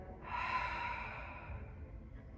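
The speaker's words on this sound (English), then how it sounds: "Again, deep breath in through your nose, deep breath out of your mouth." One faint, slow exhale breathed out through the mouth during a yoga flow, soft and airy, fading gradually and heard alone.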